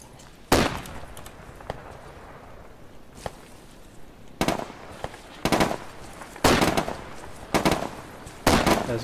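Gunfire in Arma 3 on Stratis, with sharp loud rifle shots cracking out one at a time and in short bursts, spaced irregularly against a quiet background.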